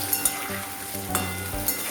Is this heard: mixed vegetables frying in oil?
yes